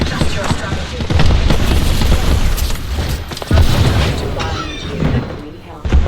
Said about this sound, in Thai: เป็นระเบิด